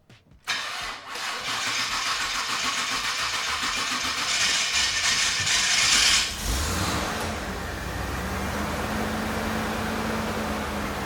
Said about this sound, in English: let's try cranking it